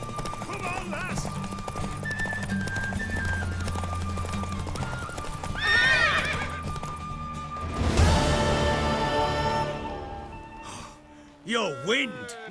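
Horse in The Witcher 3 video game, with rhythmic galloping hoofbeats under game voices, then a loud snorting neigh midway and another sharp whinny near the end.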